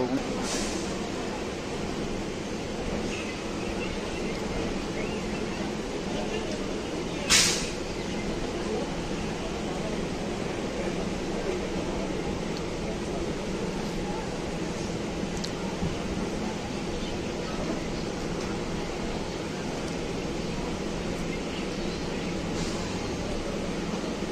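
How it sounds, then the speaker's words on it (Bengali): Commuter local train pulling out of Sealdah station, a steady broad rumble and hum of the moving carriages, with one sharp clank, while voices talk faintly through it. "আমাদের ট্রেন এখন এই মুহূর্তে শিয়ালদা স্টেশন থেকে ছেড়ে দিল"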